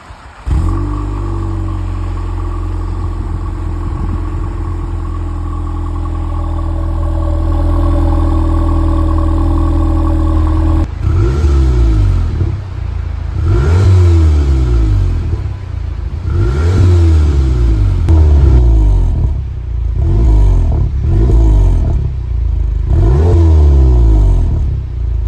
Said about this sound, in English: I'll throw in a clip of a cold start that I did this morning